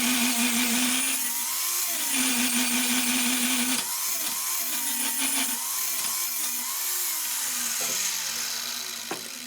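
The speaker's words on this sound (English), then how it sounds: "Next, we have to grind off these 2 rivets" Steady whining grinder cuts off rivets on bed frame angle iron, with pitch dipping and recovering repeatedly as the disc bites into the metal, close and continuous.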